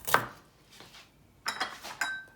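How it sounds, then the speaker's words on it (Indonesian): A knife taps sharply on a cutting board as spices are hand-cut for a Padang-style biryani, a few separate close chops spaced out over a couple of seconds with no talking. "Kita potong-potong dulu."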